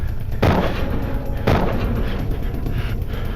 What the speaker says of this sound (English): With his shotgun empty, Morales changed to his revolver and staggered forward